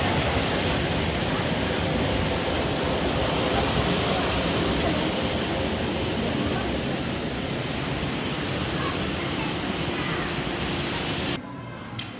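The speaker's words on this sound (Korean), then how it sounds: "폭포 소리 너무 시원하죠?" A powerful waterfall at Sejong National Arboretum roars continuously, a dense, loud wash of rushing water that stays even throughout before cutting off abruptly near the end.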